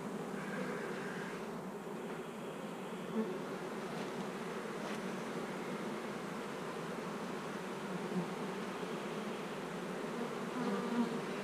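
Honeybees hum in an open beehive during an inspection, a dense, continuous buzzing that stays fairly quiet but steady throughout, with a few louder bees passing close and no voices.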